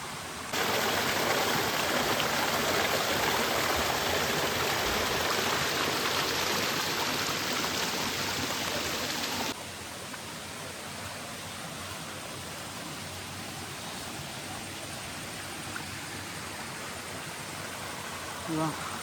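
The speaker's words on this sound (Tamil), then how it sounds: "ஸோ சவுண்டு கேட்குதா? ஸ்ட்ரீமோட சவுண்டு கேட்குதா?" A mountain stream near Moola Kona waterfall rushes loudly at first as a dense, steady roar of flowing water, then drops to a softer continuous flow partway through.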